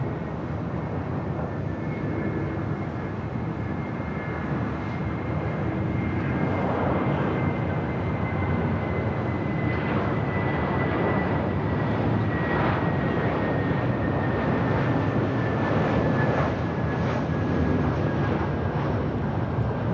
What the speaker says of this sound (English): This is Delta Airlines 913 coming in from Detroit on an A321.